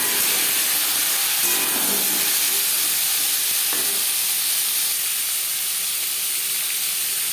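Jute leaf stalks sizzle in hot oil with cumin seeds and bay leaf, a steady bright hiss of frying close by, with a few soft stirring knocks and no talk.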